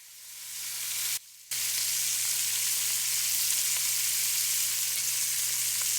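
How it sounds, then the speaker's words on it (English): White shrimp searing in a pot for adobo, a loud, close, continuous sizzle lasting several seconds, with one short dropout near the start and no talk. "You're going to sear the shrimp for about 1 minute per side or until it's pink."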